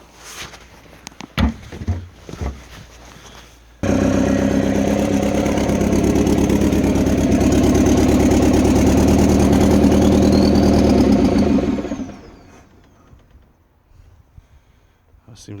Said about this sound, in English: It seems like the turbo was spooling.